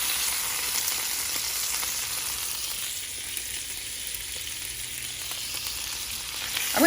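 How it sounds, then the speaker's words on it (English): Browned meatballs settle into a pan of hot tomato sauce that hisses and sizzles continuously at close range, with a faint stirring scrape at the end. No talking. "now I'm going to nestle them into my sauce"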